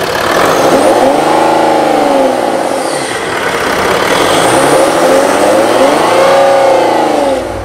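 A Range Rover Sport 3.0 SDV6 with a 308 hp three-litre diesel engine drives and accelerates, its loud, close engine note rising and falling in pitch through gear changes.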